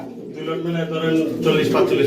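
Pigeons coo at a pigeon market, a steady throaty burble under continuous nearby talk throughout.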